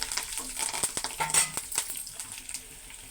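Dals, curry leaves and red chillies fry in a hot tempering pan, a close crackling sizzle with sharp pops and spatters rising and falling, with no voices.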